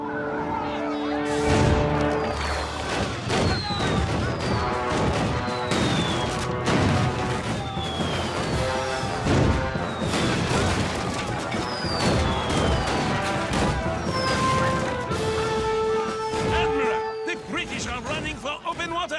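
Cannon fire booms repeatedly through a dense animated naval battle at Yorktown, mixed with whistling shells, crashes and music, while voices shout and talk over the chaos.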